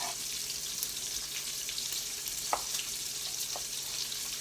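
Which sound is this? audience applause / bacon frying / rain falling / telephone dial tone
bacon frying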